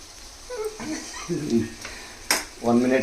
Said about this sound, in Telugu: చక్కగా ఇలా బ్రౌన్ కలర్లో వేగనిద్దాం